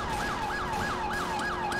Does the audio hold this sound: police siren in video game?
yes